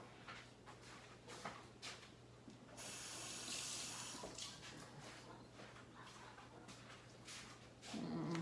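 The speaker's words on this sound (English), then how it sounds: "Let me go ahead and wash that off." Tap water runs steadily into a kitchen sink as a scallion is rinsed under the stream, with a brief louder gush partway through; the splashing is close and continuous, with no talking.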